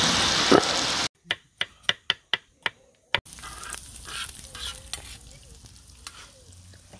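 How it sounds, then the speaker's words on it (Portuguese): Rice simmering in broth on a plow-disc pan over a wood stove gives a steady close sizzle, broken near the start by a run of sharp, evenly spaced stirring knocks before the bubbling hiss settles in. "Depois a gente afoga o arroz aqui no meio e vai jogando uma aguinha até ele cozinhar."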